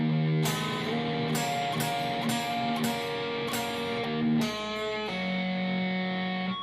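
Electric guitar plays a slow blues-rock riff, a sequence of picked notes and pull-offs with a lightly distorted tone, each attack clear and the notes ringing into one another, close and alone.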